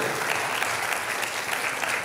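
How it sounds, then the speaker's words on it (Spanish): An audience at a church sermon gives sustained applause for fathers, a dense, even wash of clapping that fills the space without a break. "Dale un aplauso a cada papá"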